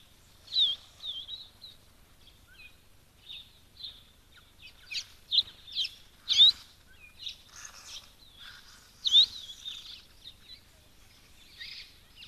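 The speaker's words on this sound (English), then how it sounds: "I've always liked the sounds of hamakops" Hamerkop calls at a waterhole: a series of high, thin piping notes in scattered bursts, some louder and nearer, others faint, over a quiet background with no voices.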